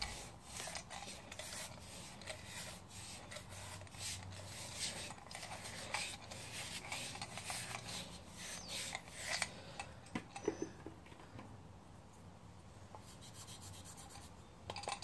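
A chalk block is ground against a flask surface, giving soft repeated rasping rubs that come in short strokes, quiet and close with no talking.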